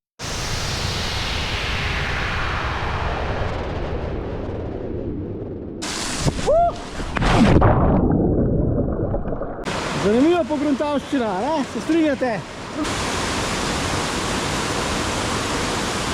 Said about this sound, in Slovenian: Kakšen čudovit slap je tole.